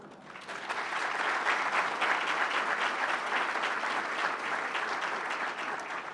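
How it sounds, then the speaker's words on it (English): Audience applause fills a gala fundraising event, a steady, dense clapping that swells and holds at moderate loudness for several seconds. "Hold that applause"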